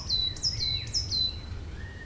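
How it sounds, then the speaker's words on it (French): Birds sing in a forest at dusk: several quick, sweeping high chirps come in a loose series over the first second and a half, then a thinner call near the end, all faint against a low ambient hum. "une forêt au crépuscule, d'où s'élèvent les derniers chants des oiseaux du jour"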